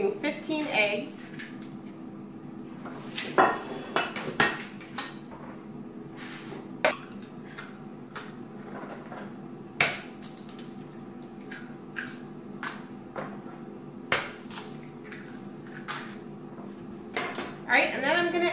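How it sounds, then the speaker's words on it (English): Fifteen eggs go into a dish for a breakfast casserole, making scattered sharp knocks and clinks against the dish at irregular intervals over a quiet kitchen background. "now I'm going to go ahead and put my eggs in here"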